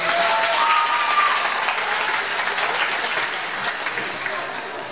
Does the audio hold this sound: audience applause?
yes